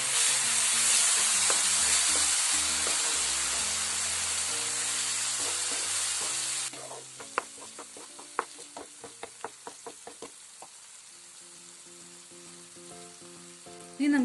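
Garlic pickle with chili powder and tamarind water sizzles loudly in a pan at first, then quietens as a spoon stirs and knocks against the metal in a steady series of taps.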